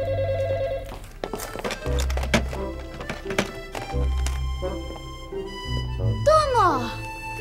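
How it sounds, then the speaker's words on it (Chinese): A telephone bell rings briefly near the start of a drama scene set in a remote northern Chinese village, then gives way to a busy mix of music and other sounds. "电话响了半天，你也不接"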